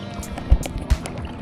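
Boat on clear water beside a hill village, with soft lapping and a couple of brief knocks or splashes close by over a continuous watery wash.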